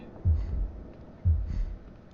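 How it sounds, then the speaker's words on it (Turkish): Two slow, muffled heartbeat thumps about a second apart, played as the nun approaches in the Evil Nun horror video game, low and soft over a faint hum. "Yaklaşınca kalp atışları duyuluyor."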